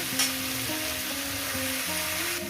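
Onion, garlic, ginger and green chilli frying in a pan for a chicken curry, a steady close sizzle with broad hiss that continues without pause, with no voices.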